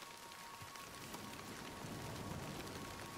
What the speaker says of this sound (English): Dang, some of that hail's pretty big.